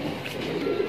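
Large desi pigeons of a single Moradabad breed give a close, low throaty coo that rises toward the end of the brief moment, steady and alone without speech.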